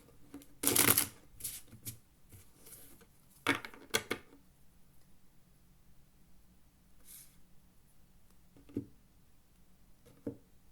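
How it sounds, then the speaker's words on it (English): A deck of playing cards is given a big riffle shuffle at a poker table, one sharp loud burst early, a second shorter riffle, then scattered light card taps and clicks. "One more big shuffle."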